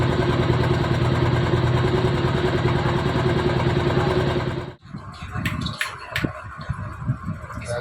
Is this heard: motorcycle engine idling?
yes